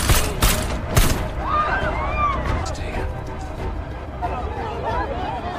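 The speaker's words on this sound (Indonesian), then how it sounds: "baku tembak pun tak terelakkan di mana Udin" A shootout on a bridge in the action film Extraction opens with two or three loud, sharp gunshot bursts, followed by tense film sound and shouting voices underneath.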